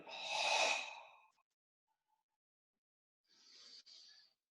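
Two breathy exhalations during an abdominal breathing exercise, one long and fuller, then a pause of near silence and a second softer, airier breath out, close and unaccompanied.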